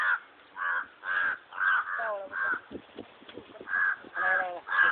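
Several crows caw repeatedly near a dog they are squabbling with, harsh calls coming in bursts one after another, some overlapping, close and loud.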